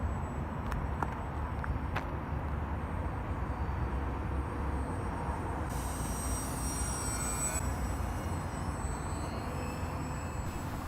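A small budget UAV model plane in flight, heard as a steady broadband drone with a faint whine and no talking.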